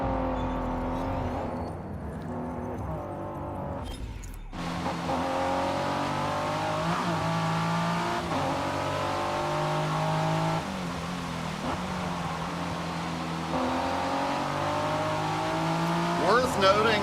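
Ford car in the Forza racing game, its engine droning and revving steadily throughout at close range after a brief quieter opening, with a voice talking over it.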